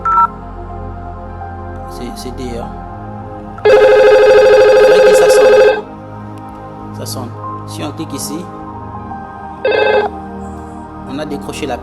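A VoIP desk telephone rings twice during a call setup: a steady, bright ring of about two seconds, then a shorter burst several seconds later. A person speaks between and around the rings.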